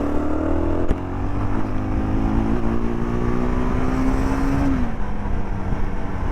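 Jawa Yezdi Adventure motorcycle engine revving up, pitch climbing steadily over several seconds then dropping off sharply, loud and close with a steady exhaust rumble underneath.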